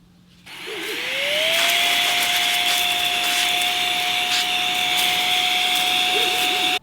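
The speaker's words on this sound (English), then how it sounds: "We'll put that little nozzle on there and we'll give it a blow." An electric air duster with a small nozzle attached spins up with a rising whine and then blows a loud, steady rushing stream of air for several seconds before cutting off abruptly.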